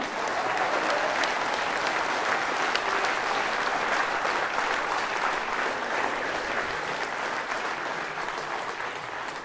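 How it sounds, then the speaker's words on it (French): Sustained audience applause at a final campaign rally, a dense, steady roar of many clapping hands lasting throughout without a break, fairly loud and even. "Je vous demande d'applaudir très fort Clément Decrouy"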